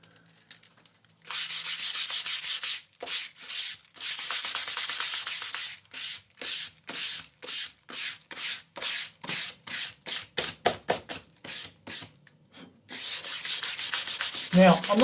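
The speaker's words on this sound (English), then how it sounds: "Let's get back to sanding." Hand sanding on a custom guitar body in a luthier's workshop: long rasping strokes, then a quick run of short rhythmic back-and-forth rubs, close and steady with no talking.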